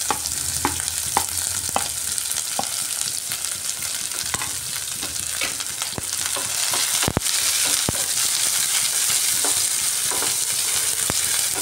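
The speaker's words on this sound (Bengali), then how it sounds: "এবার এর মধ্যে কুচিয়ে রাখা পেঁয়াজ দিয়ে দিচ্ছি" Chopped onion tipped into a pan of already-fried garlic sizzles in a steady, loud hiss, broken by scattered scrapes and taps of a spatula stirring, with one sharp knock near the middle.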